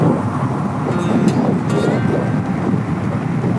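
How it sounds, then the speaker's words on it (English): Steady wind roars and buffets against a Honda CT125 rider climbing uphill on a highway, a loud continuous broadband rush with no voices. "Uphill and against the wind."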